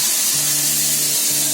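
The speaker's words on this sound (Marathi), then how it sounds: "आता बघा फोडणी देते" Tempering spices poured into hot oil for a Konkani-style clam curry give a loud, close burst of hissing sizzle that holds steady throughout, with a low hum running beneath it.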